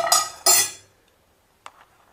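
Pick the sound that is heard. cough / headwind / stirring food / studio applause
stirring food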